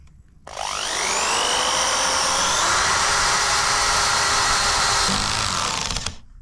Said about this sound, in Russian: Закручиваю саморез.